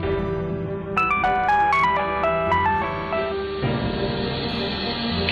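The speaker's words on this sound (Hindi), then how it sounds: "रबिया परेशानी के आलम में हमजा को फोन कर" A phone rings in a Pakistani TV drama, a melodic electronic ringtone playing a run of rising and falling tones over a steady background hum, fairly loud and with no voices.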